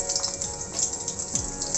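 Garlic sizzling in hot mustard oil in a kadhai, a steady, dense hiss of frying that continues throughout the short stretch, close and fairly loud with no talking.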